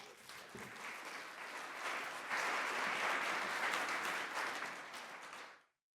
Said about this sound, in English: You clap, so I'm assuming you love that too.